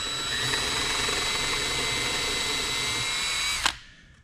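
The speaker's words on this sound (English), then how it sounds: "drill a hole for those pins" A power drill whines steadily and loudly as it bores a hole for pins through Stretch Form Fabric on a concrete sink mold, holding one even pitch for several seconds before cutting off abruptly.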